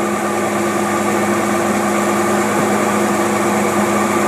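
A car engine fitted with a Rochester two-barrel carburetor runs steadily at a fast idle, a loud, continuous hum with a smooth mechanical drone close by and no one talking.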